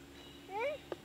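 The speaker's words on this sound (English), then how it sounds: "That's a cat." A cat gives a single short, rising-then-falling meow, moderately quiet indoors over a steady low hum, followed by a brief sharp click.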